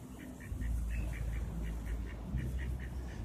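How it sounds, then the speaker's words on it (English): Ducks quack in a quick, repeated series over a low background rumble, fairly close and steady, at an outdoor riverside festival. "Look at these little ducks."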